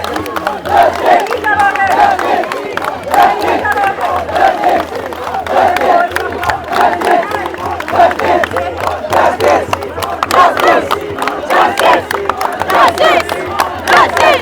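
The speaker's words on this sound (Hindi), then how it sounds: "जंतर मंतर पर जो भीड़ है ना, छात्रों की भीड़ है भाई" A large crowd of students protesting at Jantar Mantar, Delhi, roars and shouts continuously, with rising cheers and chant-like cries layered over a dense, loud outdoor murmur throughout.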